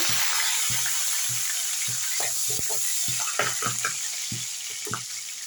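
Ginger and curry leaves hit hot oil with fried urad dal, giving a steady close sizzle and crackle with small pops and stirring scrapes throughout.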